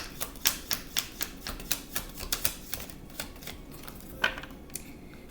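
Flimsy tarot cards are shuffled by hand in a quiet room, giving a rapid series of crisp slaps and riffling clicks that come in a fairly regular rhythm, close by and alone.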